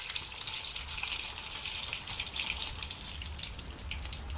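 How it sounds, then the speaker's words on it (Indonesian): Tofu frying in hot oil in a wok for batagor, a steady bright sizzle and crackle running continuously at moderate loudness with no talk. "Kita akan goreng tahunya dulu."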